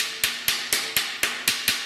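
Seven evenly spaced, sharp metallic blows from a hammer blade on the steel disc brake duct of a 1978 Ford F150, each strike ringing briefly before the next, close and loud with no talk.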